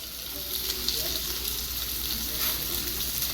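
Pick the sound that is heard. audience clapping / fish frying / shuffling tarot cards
fish frying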